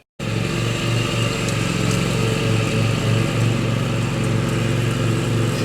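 A gas-powered lawn mower engine runs loud and close, a steady throbbing drone that starts abruptly and holds without pause, with no talking.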